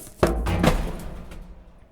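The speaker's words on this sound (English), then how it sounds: "here's the sound of me returning the book very lovingly." A couple of dull thumps and a soft sliding knock as a book drops into a library return bin, followed by a fading hollow rumble.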